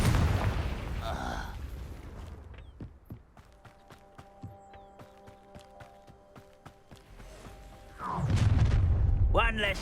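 Confringo blast spells explode in the video game Hogwarts Legacy, with sharp percussive hits and booms over a tonal game score, and loud, dense blasts at the start and again near the end.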